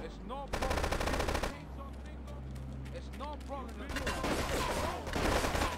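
Rapid bursts of automatic gunfire crackle through a gunfight in Grand Theft Auto III, arriving in several clustered volleys with short gaps and a low engine-like hum beneath.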